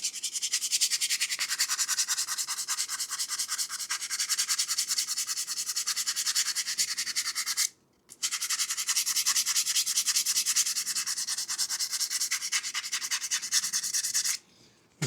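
Continuous dry rasping of 220-grit sandpaper smoothing knife handle scales and the steel blade, a fast back-and-forth scrubbing that runs nearly unbroken with two short pauses, close and alone.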